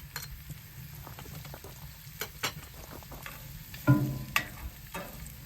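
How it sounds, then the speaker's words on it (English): Onions fry outdoors in a cast iron pan for smoked baked beans. A faint, steady sizzle is broken by a few sharp clicks and scrapes of stirring, with no talking. "fry up the onions"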